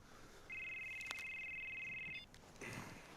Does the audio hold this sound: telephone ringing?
yes